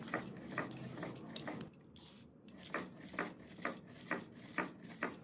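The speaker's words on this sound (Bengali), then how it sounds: "এগুলোকে আমি শিলে গুঁড়ো করে নেব" Spices for amla pickle being ground on a stone slab (shil), giving a steady rhythmic scrape-and-crunch with repeated strokes and a brief pause midway.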